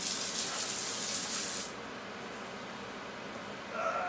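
Water gushes strongly from a hose while clearing a clogged sewer line, then cuts off abruptly, leaving quiet background with a faint voice at the end.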